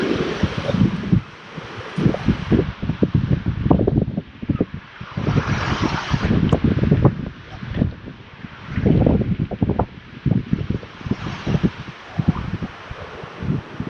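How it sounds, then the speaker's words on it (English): Wind gusting through a red rock canyon, loud rumbling buffeting on the microphone with rustling, surging and easing in uneven waves throughout. "It is windy in this canyon."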